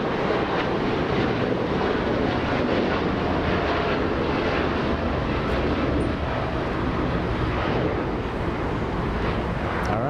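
A Japan Airlines jet departs Los Angeles International bound for Osaka, a dense, steady engine rumble that holds close and loud throughout, with faint scattered background noise over it.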